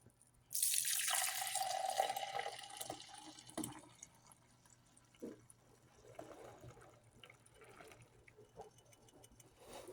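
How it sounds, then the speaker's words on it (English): Homemade plant-based liquid laundry soap concentrate poured into a two-cup measuring cup: a loud hissing, splashing pour that starts abruptly, eases after about three seconds, then gives way to faint knocks and trickles. "The easiest way to transfer this and to check that you don't have any undissolved particles is to dump it into the 2-cup"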